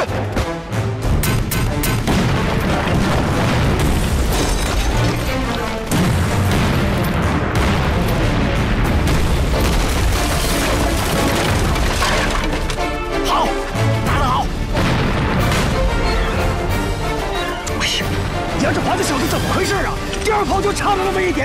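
Dense artillery bombardment in a war film about an attack on a Japanese airfield, with loud continuous booms, crashes and gunfire throughout, alongside shouted voices.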